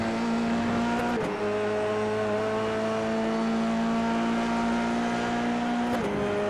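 Paddle-shifted race car at full song on the Silverstone circuit, its engine note loud and close as it climbs steadily, broken by two quick gear shifts that drop the pitch before it winds up again.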